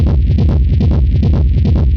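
Industrial techno low-end rumble run through a fully wet delay with reverb and sidechain pumping, giving a dense, loud bass mass that swells and ducks in a steady staggered rhythm, with no voices.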